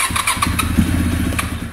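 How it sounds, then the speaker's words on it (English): A Honda motorcycle engine with the choke fully out cranks and sputters close up, firing in uneven bursts that catch briefly before faltering. "that was nearly normal Honda noises"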